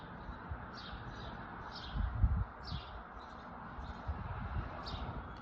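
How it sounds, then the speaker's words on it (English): Birds chirp in short, faint repeated calls outdoors on a quiet early morning, sounding over a steady background hiss, with a few soft low rustles partway through. "it's beautiful to hear the sounds of the birds"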